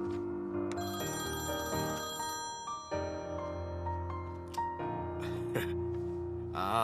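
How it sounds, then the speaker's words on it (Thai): A telephone rings with an electronic ringtone, a bright repeating tone pattern playing steadily for several seconds, heard fairly clearly alongside other faint room sounds. "คุณหานคะโทรศัพท์ค่ะ"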